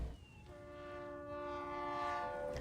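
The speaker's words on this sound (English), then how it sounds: "The train is coming." A game train's horn sounds as it arrives in Reverse 1999, a steady sustained tone held for about two seconds over a low rumble, moderately loud with no talk.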